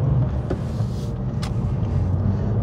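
Porsche 911 993 Carrera 4 Narrow Body engine under a light throttle blip at a busy junction, a steady low rumble from inside the car with a brief rise in revs.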